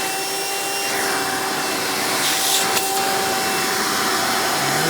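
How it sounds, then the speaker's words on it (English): A Hoover Elite Supreme U5043-930 upright vacuum cleaner, a direct-air machine, runs steadily and close with a constant whining motor drone and airflow rush, no talk over it. "Because this is a direct air machine, do not expect miracle suction"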